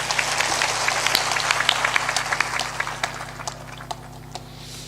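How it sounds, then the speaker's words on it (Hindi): An audience claps loudly at a Hindi spiritual discourse: dense crackling applause that holds steady for several seconds, then thins and fades toward the end, with a low hum underneath. "एक बार सबके सम्मान में ताली जोरदार बजा दें"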